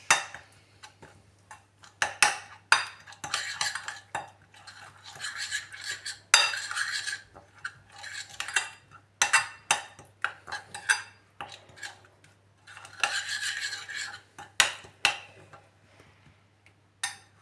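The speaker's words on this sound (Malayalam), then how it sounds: "കുറച്ച് കായം ഒരു അര സ്പൂൺ സൺഫ്ലവർ ഓയിൽ നന്നായി മിക്സ് ചെയ്തിടുക" Spice masala with salt, asafoetida and sunflower oil being mixed with a spoon in a bowl, heard as a close, irregular series of light clinks and scraping taps with quiet pauses between bursts, no voices.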